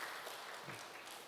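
Faint, steady applause from a church congregation during a pastor's sermon service, a soft continuous wash of clapping heard from a distance.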